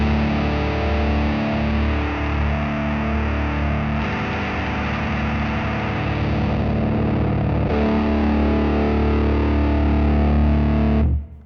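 Big Muff-style fuzz distortion from a Fractal Audio Axe FX III, a thick sustained guitar tone ringing in long held chords, loud and alone, with a couple of changes in texture before it cuts off.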